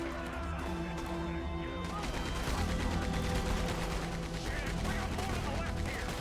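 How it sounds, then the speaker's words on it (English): A Gatling gun fires in Red Dead Redemption 2 amid a busy firefight, with continuous rattling shots, crashes and scattered gunfire filling the scene while voices talk underneath. "Get on that Gatling gun, Arthur!"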